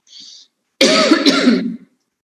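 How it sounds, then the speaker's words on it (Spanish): A single harsh cough burst, close and fairly loud, lasting under a second, preceded by a faint short breathy sound. "Me agarró la tos."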